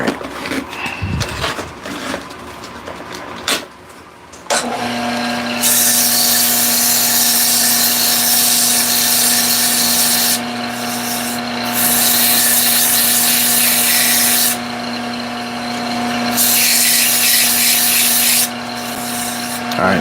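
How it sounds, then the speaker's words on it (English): A wooden bowling pin piece is sanded on a woodturning lathe: after a few seconds of scattered handling noise, a loud steady abrasive hiss over a constant motor hum runs continuously, swelling and easing slightly as pressure changes. "I don't want to do too much sanding."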